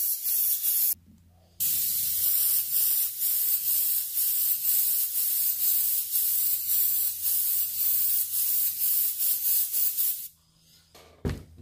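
A spray bottle of rubbing alcohol mists into a glitter tumbler during cleanup: a long, loud, close hiss of rapid squirts, briefly interrupted once, then stopping.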